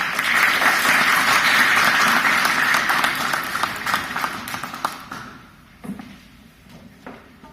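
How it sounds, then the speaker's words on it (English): An audience applauds loudly and steadily, then the clapping thins out and fades to a few scattered claps. "let's give a round of applause to Kamran to kick off tonight's program."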